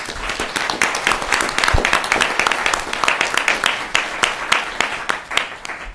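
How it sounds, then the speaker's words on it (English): An audience at a high school public policy debate semifinal claps for the judges and moderator. The claps are distinct and fairly close, forming a lively, uneven patter that holds steady throughout. "Ladies and gentlemen, a round of applause for our judges and moderator."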